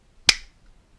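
A single sharp hand clap, close and crisp, with a quick decay into near silence.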